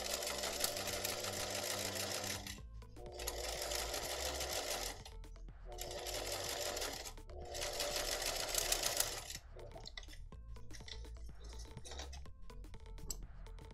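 A sewing machine stitching a line on a fabric coffee cozy, running in four long steady bursts separated by brief pauses, then slower, choppier stitching toward the end, close and loud with no talk.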